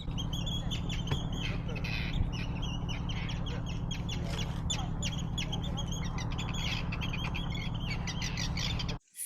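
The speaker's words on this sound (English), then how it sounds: "Two birds are fighting." Two birds squabble beside a fjord, giving harsh, repeated squawks and quacking calls over a steady low background rumble that stops abruptly at the end.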